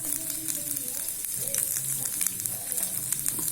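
Grated coconut and garlic frying in a pan for orange peel chutney, a close, continuous crackling sizzle with faint stirring underneath.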